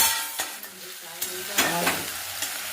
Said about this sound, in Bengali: একটু বাটা বাটা হয়ে গেলে পেঁয়াজটা ভেজে নিচ্ছি।